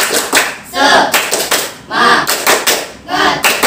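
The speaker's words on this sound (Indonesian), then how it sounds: "Tepuk semangat." A school class performs a rhythmic spirit clap together: loud, close, patterned bursts of clapping mixed with voices chanting in unison, repeating in short groups with brief pauses between them.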